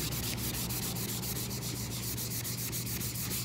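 Steady rubbing of a painted surface treated with Dixie Belle crackle medium, a continuous close scratchy sanding sound with a faint regular stroke rhythm, alone without talk.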